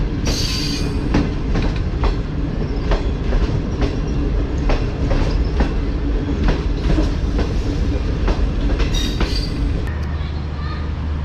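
The Gilian Express passenger train passes through a railway station, rhythmic clickety-clack of wheels over rail joints repeating steadily, loud and close, with brief wheel squeal near the end.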